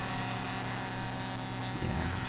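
Hal Stockman's STOL airplane engine, a steady droning hum with a slight swell near the end, heard loud and continuous without talk.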